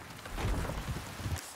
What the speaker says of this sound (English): And it's raining. Beautiful.